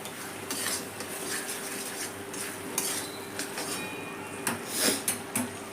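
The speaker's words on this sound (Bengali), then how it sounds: "দেখুন মৌরি বাটাটা দেওয়ার পর আমি অল্প নেড়ে দিয়েছি।" A metal spoon scrapes and clinks against a pan as fennel paste is stirred into a spice masala for a chicken dish, with steady close stirring and a few sharper knocks, over a faint sizzle.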